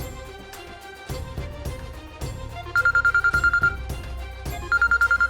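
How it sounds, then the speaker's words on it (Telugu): An incoming-call telephone rings in two bursts of rapid electronic trills over tense drama background music, close and clear, with no talk. "హోమ్ మినిస్టర్ గారు కాల్ చేస్తున్నారు"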